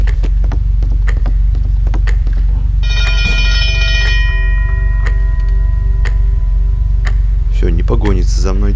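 In the video game Hello Neighbor, an electronic doorbell rings with a bright multi-tone chime midway, over loud continuous game noise, ticking clicks and a warbling effect near the end.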